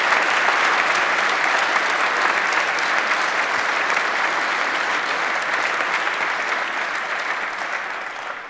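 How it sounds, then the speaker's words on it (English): An audience at the 27C3 hacker conference applauds after a talk. The clapping is dense and steady, and it fades slightly toward the end, with no voices over it. "Give him a round of applause."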